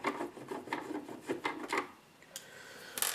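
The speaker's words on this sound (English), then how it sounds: "I unscrew the 5 or 6 main screws that are on the back." A screwdriver backs out screws from the underside of a Nintendo NES console, giving close, quiet, rhythmic scraping ticks in quick repeated bursts, then a brief pause and a couple more turns.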